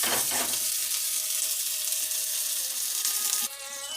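Onions fry in a hot pan with a loud, continuous close-up sizzle and crackle that runs unbroken through the whole stretch, with no voices over it.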